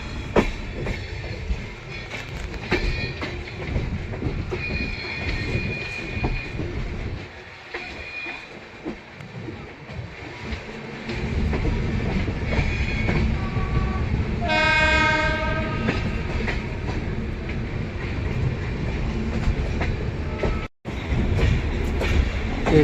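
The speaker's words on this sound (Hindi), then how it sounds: "अब भाई अपने स्वराज एक्सप्रेस एंटर कर रही है जम्मू तवी।" The Swaraj Express rolls into Jammu Tawi station with a continuous rumble and wheel clatter, horn blasts sounding partway through, loud and close throughout.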